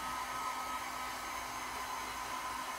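A hair dryer blows steadily to dry fresh metallic acrylic paint on black canvas, a faint, even whirring hiss with a constant motor whine and no speech.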